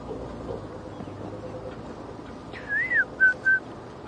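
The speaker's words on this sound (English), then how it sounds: "I can hear a white-browed scrub robin calling." A white-browed scrub robin calls on a quiet morning safari drive: a rising-and-falling whistled phrase followed by two short clear whistles, moderately near above a soft rumbling background.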